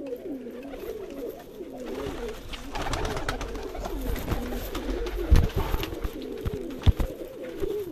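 Pigeons coo over and over in a close, steady rhythm, the soft rolling calls coming from a breeder pair, a female and her male, with a few louder knocks and thumps near the end.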